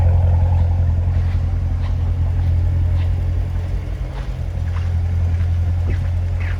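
A black 2017 Chevrolet Corvette Stingray 2LT Z51 idles, a deep steady low rumble with a rhythmic chug, close and loud with no talking.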